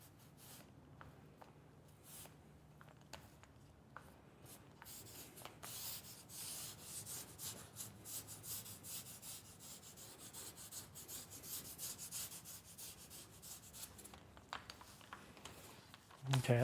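Sandpaper rubbed over a painted surface inside a van, a soft, faint, continuous scratchy rasp of repeated strokes that swells slightly in the middle and ends with a louder knock.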